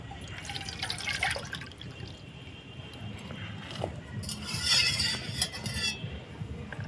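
Warm water trickles and drips into semolina dough as it is kneaded by hand in a home kitchen, soft splashes and wet squelches with a faint clink, close up and quiet.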